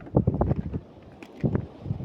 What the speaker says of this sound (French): là il y a trop de vent